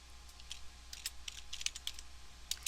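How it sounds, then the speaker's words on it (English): Keys on a computer keyboard clatter as a search query is typed, a quick irregular run of soft clicks heard close and faint over a low steady hum. "As you saw when I was typing, it was showing up the auto population."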